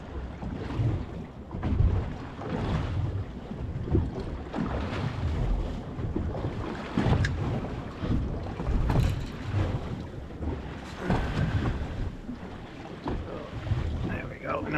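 Steady wind buffets the microphone on a small fishing boat drifting at sea off the Isles of Shoals, with broadband gusty roar throughout and occasional bumps and faint voices underneath.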